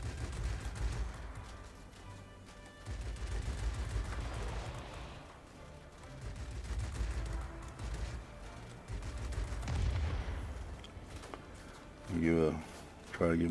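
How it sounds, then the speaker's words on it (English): A Hurricane MK II's guns firing in the flight combat game World of Warplanes, heard as rattling bursts of rapid gunfire spaced between short pauses over a steady engine drone, with a brief louder burst near the end. "Try to give my guns a second to cool down here."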